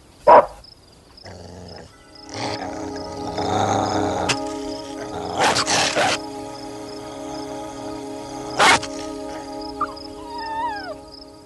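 A dog makes scattered barks and growly vocal noises indoors at a dinner visit, in short bursts separated by quieter stretches with some background sound.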